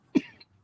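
Two short, sharp coughs from one person, close and loud, separated by a brief pause.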